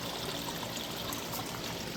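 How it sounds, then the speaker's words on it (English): Clear creek water flows steadily over rocks, a close, continuous bright trickling and babbling with no voices. "Crystal clear water flowing nicely."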